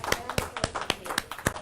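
Sharp, scattered handclaps from a church congregation ring out about every quarter second in a short, irregular burst, while a voice speaks over them.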